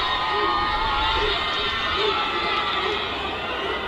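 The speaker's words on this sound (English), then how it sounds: "The shrieks you hear whenever anyone gets back up again to their feet." Spectators at an Indian national rugby 15s match shriek and cheer in a steady, dense roar as a player gets back to his feet, loud and continuous, with crowd voices and shouting throughout.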